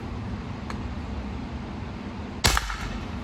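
A bespoke garden gun fires a single sharp shot of a shot load at a board, a loud crack at about two and a half seconds over steady background hiss, no talking.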